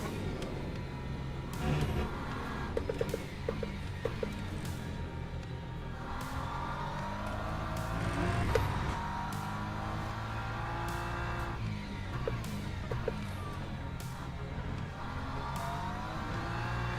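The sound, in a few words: LMP3 race car passing, Le Mans Ultimate video game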